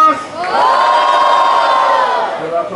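Rap battle crowd in Brazil cheering and shouting loudly for a contestant, a sustained, dense roar of voices with whoops rising and holding steady throughout.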